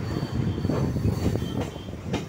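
A train rumbles and rattles nearby, wheels clacking and faintly squealing as it rolls into Sir Gurudas Banerjee Halt station in Kolkata, loud and continuous.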